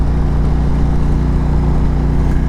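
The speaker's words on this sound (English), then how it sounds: "The exhaust sounds phenomenal." A custom 2019 Indian Chieftain Dark Horse motorcycle exhaust rumbles steadily and loud while riding, a continuous low throbbing drone with wind noise and no pauses.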